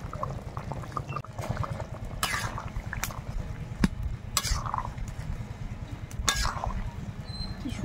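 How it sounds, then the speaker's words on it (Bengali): Hot water pours into a pot of meat curry cooked with mankochu and chui jhal, a steady splashing gush over a low simmering rumble, close with a few clinks. "আমি এখানে গরম জল দিলাম।"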